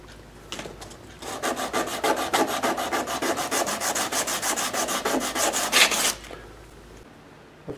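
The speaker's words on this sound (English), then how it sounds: "I'm going to sand off the top and round the edges." A small steel-string guitar part is sanded by hand, a steady run of quick back-and-forth rasping strokes, close and even, lasting several seconds before stopping, with no talk.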